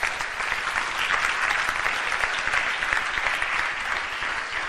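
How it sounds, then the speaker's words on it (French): A church congregation bursts into loud, sustained applause and cheering for the Lord, dense clapping from many hands filling the room without pause. "On peut acclamer très fort le Seigneur."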